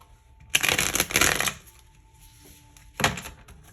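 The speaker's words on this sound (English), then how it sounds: "So let's pull some tarot" Tarot cards are shuffled close by in two bursts, a long riffling run followed by a short second shuffle after a pause, with no voices.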